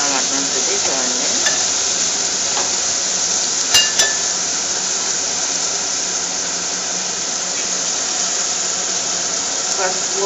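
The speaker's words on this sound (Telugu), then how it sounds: "దాంట్లో అల్లం వెల్లుల్లిపాయ పేస్ట్ పచ్చి వాసన పోయేంత వరకు కలుపుకుంటూ ఉండాలన్నమాట ఫ్రెండ్స్" Ginger garlic paste fries in a pan while being stirred, a continuous dense sizzle with occasional clinks of a spoon against the pan, close and loud throughout.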